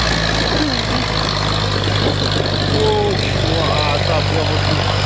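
A truck pouring black smoke grinds up a steep hill road, its engine a steady, loud low drone that holds the whole time while people talk nearby.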